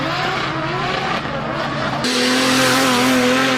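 A car driven hard, its engine droning loud and steady with a tire squeal over it. The sound rises in a sharp shift midway and carries on close and unbroken, with no speech.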